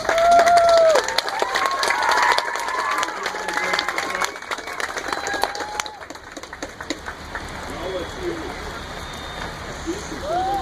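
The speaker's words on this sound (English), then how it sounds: "So let's give another hand to our two visitors." A crowd claps and cheers for two visitors at an outdoor charity ride gathering on a rainy day, steady applause with scattered whoops and voices throughout, loud and close.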